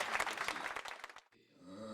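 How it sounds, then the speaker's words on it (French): An audience at a political speaking event in London claps, moderately loud and fairly dense, then the clapping fades to quiet with a lingering tonal hum in the background. "Encore un peu d'applaudissements."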